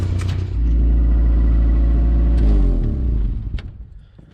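A Chevrolet Chevette with a damaged, leaking exhaust rumbling loudly and deeply, swelling in a rough low growl before easing off and fading near the end.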